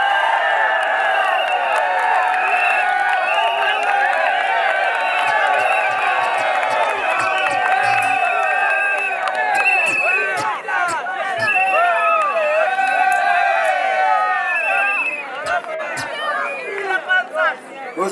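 At a school music battle, a crowd cheers and whoops loudly, a dense lively roar of voices and shouts that swells and ebbs throughout, with clapping likely mixed into the noise.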